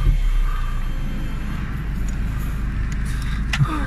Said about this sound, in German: Motor starten.